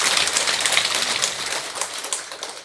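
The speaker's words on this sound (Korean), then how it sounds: "공연히 박수만 치지 마시고" An audience claps during a Buddhist dharma lecture, a dense, continuous patter of many hands applauding together, close and fairly loud, fading slightly toward the end.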